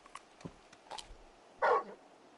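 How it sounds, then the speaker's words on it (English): A big dog barks once in Final Fantasy XVI, a single short, fairly loud bark standing out after a few faint quieter sounds. "You're just a big puppy, aren't you? A very big puppy."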